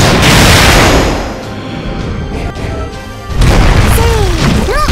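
Artillery fire in the Fate/Grand Order mobile game, a loud deep boom that fades, then a second heavy blast later; short bright chirping effects follow near the end.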